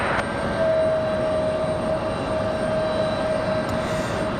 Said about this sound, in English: American, that 737, gonna go for it here just ahead of the 767.